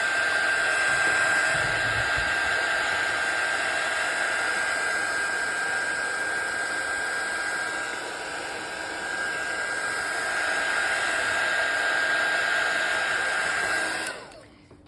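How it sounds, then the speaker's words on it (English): A hair dryer blows with a loud, steady whooshing roar and a thin high whine, running continuously up close before cutting off at the end. "I'm actually gonna hit the dryer real quick."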